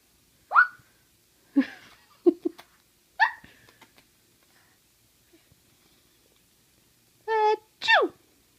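Several short, sneeze-like bursts come one at a time from an animal or person, separated by long silences, followed by a voice doing a drawn-out imitation of a sneeze.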